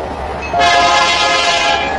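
A train runs loudly close by; low rumbling gives way after a moment to a sustained, bright horn-like tone over the rolling rail noise, with no talking.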